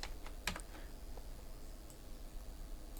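A few quick keystrokes clack on a computer keyboard near the start, then a couple of isolated taps over a faint steady room hiss, close and soft with no voices.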